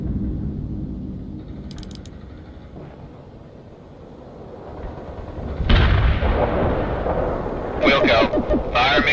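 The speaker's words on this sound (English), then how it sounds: "Artillery barrage inbound." An artillery barrage in the World in Conflict video game builds from a low rumble into heavy blasts and crackling impacts, with a second volley of booming hits near the end.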